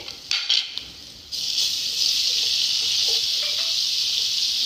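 Tablespoon of garlic dropped into hot oil and frying, a steady close hiss and sizzle that starts after a few brief clatters of utensils and continues evenly.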